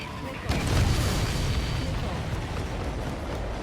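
Supply ships exploding in the combat flight game Ace Combat 7, a deep booming blast that then rolls on as a sustained low rumble, loud and continuous.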